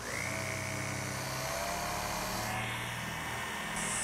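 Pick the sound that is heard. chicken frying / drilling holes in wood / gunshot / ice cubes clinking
drilling holes in wood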